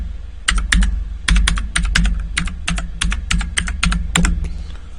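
Quick bursts of crisp clicking keystrokes on a computer keyboard while a command is typed, in uneven clusters of taps close to the microphone.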